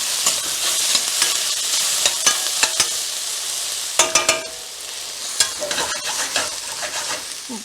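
Chicken in a creamy mushroom sauce stirred in a pan, close scraping and clacking strokes of a spoon against the pan over a gentle sizzle, in irregular bursts.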